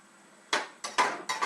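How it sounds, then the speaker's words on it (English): A spoon clanks and scrapes against a pot of homemade beans and chili in four sharp, close bursts with short pauses between them. "I'm going to stir that around a bit"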